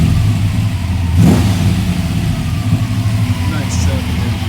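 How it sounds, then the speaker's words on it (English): A restored 1972 Chevrolet Chevelle SS with a 383 stroker V8 revs up with a rising roar, then settles into a deep, steady rumble, heard close by. "Nice exhaust sound and system."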